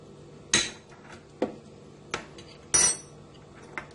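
A metal spoon scooping maida flour into a bowl, five or six distinct clinks and taps spaced irregularly, close and crisp against near silence, with no voices.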